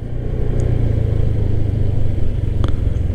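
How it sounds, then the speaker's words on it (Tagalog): Road traffic near a beach resort in Ternate, Cavite rumbles steadily as car and motorcycle engines idle and rev close by, a low continuous drone with faint clatter and no talking. "Aha, traffic."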